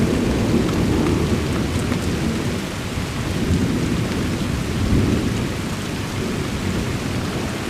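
A Chicagoland thunderstorm in late February, with a deep continuous rumble of thunder rolling under steady heavy rain, loud and unbroken throughout, with no one speaking.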